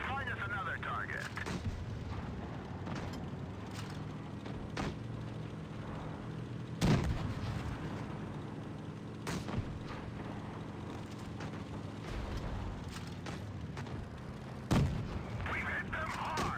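Tank cannon fire in World of Tanks Blitz: two heavy booms, spaced apart, rising over a steady engine rumble and battle noise, with a voice talking throughout.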